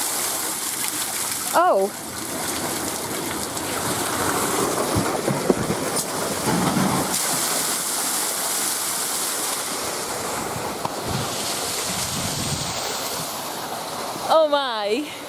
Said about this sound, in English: this fountain's just started going off